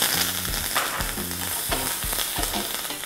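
Curry leaves hitting hot tempering oil with mustard seeds, cumin, dried chilli and asafoetida, a loud close sizzle with a few sharp crackling bursts and stirring across a few seconds.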